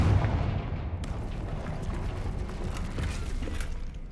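A Confringo blasting spell explodes in Hogwarts Legacy, opening with a heavy low boom and trailing into a steady, dense rumble of debris and crackle that holds throughout.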